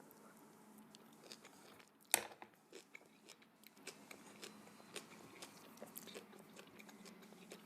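Kimchi eaten with tofu soup at close range: soft, intermittent chewing and crunching with wet squishes, one sharp loud bite early on, then quieter irregular bites without speech.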